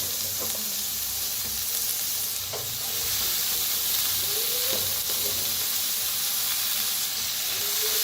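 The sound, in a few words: cabbage stirred into frying tomatoes and oil in a pan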